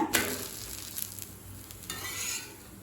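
Adai dosa, a thick lentil-rice pancake, frying on a hot pan with a steady, close sizzle and brief scraping clinks of a spatula near the start, no talk.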